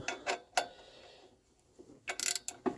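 A ratchet wrench tightens the bolts of a car clutch pressure plate in turn, giving several sharp clicking bursts separated by a quiet gap, close and fairly loud.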